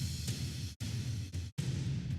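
Layered sampled percussion and a full drum kit play together in a music production session, a dense, loud, punchy groove with heavy low-end thumps and two brief cutoffs where the beat drops out.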